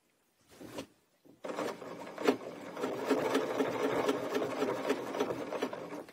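A domestic sewing machine runs steadily while quilting along a ruler, its stitching rattle starting after a couple of short scraping taps and continuing close and even to the end.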